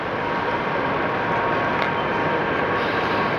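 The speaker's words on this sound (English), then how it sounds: "Here I am at the train station." Steady, dense rumble of a train station in Munich, with rail noise filling the space continuously at an even, fairly loud level and no clear voices.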